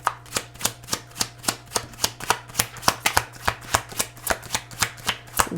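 Tarot cards being shuffled by hand in a steady, fast rhythm of sharp, close riffling snaps, about three per second, with no talking.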